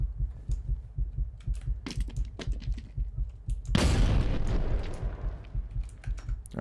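A frag grenade bursts in a single loud, deep blast midway through a night-time mission in Operator: Tier 1, after a low, thumping heartbeat-like pulse that resumes as the explosion fades.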